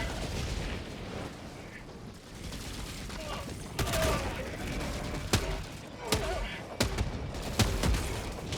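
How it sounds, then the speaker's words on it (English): An orbital barrage in Helldivers 2 pounds the area with repeated heavy explosions, a series of deep booms and cracks every second or so over a continuous rumble of battle, with game voices murmuring underneath. "Orbital barrage incoming."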